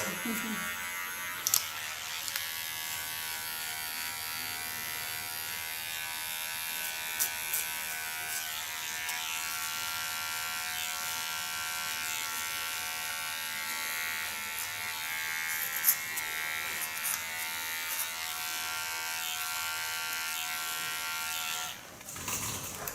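Electric hair clippers buzz steadily and close while cutting a woman's short hair, a continuous high whine that holds for the whole stretch with small shifts as the blade moves.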